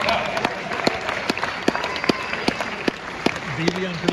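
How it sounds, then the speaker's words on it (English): Comedy club audience at a comedian's stand-up set breaking into loud, steady cheering and applause with sharp claps and whoops, a dense crowd roar sustained throughout with a few voices rising above it. "You were right to be very hesitant with that cheering"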